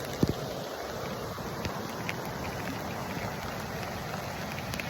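Steady rain falls outdoors beside the Colorado River, a dense, even hiss of drops with a few sharper taps near the start, mixed with light wind noise and no talk.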